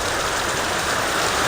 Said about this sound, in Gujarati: અત્યારે વધી ગયો છે વરસાદ